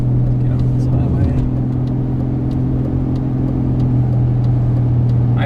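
A 2001 BMW 750iL with a Dinan-tuned V12 pulls onto a highway, its steady low engine drone and faint whine holding loud and close under road rumble, with someone speaking over it.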